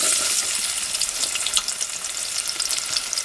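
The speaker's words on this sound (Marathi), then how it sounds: "टोप तापलाय मस्त तेल तापलं आहे कांदा घालते" Chopped onion dropped into hot oil in a pot on a village wood-fired stove while cooking chicken, giving a close, loud, crackling sizzle that runs steadily throughout with no talking.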